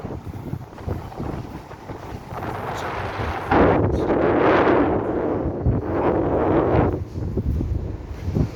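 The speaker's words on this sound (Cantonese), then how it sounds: "咪間大風，好鬼大風喺度" Strong wind on the coast under the Akashi Kaikyo Bridge near Kobe and Awaji Island, Japan, buffets and roars, building to a loud, sustained rush in the middle before easing slightly, with gusty bursts throughout.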